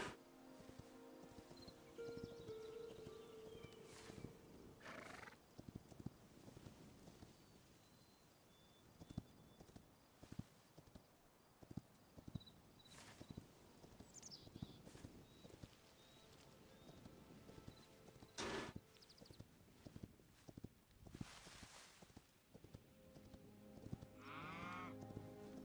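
Horse hooves clip-clop steadily in the video game Hytale, with occasional neighs and other animal calls, faint and ongoing beneath scattered game effects.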